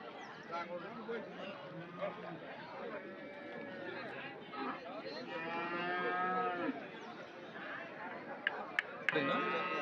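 Crossbred dairy cattle moo repeatedly at the Anthiyur cattle market in Tamil Nadu, the long, drawn-out lowing rising over a constant murmur of crowd chatter and nearby talking, with a few sharp knocks near the end.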